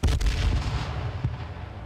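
A single heavy sniper rifle shot in the survival game H1Z1, a loud booming report at the start that rumbles and fades, with a fainter thud shortly after.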